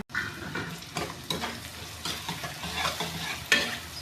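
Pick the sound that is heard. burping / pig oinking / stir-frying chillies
stir-frying chillies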